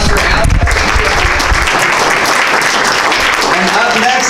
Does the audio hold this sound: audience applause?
yes